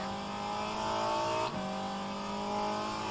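A race car engine accelerates in a 1967 Le Mans racing video game, a faint, steady engine drone holding a sustained tone with a brief dip midway.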